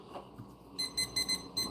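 An auction countdown timer starts during a live bismuth sale and gives a series of about five quick high electronic beeps in an even rhythm over a low room hum.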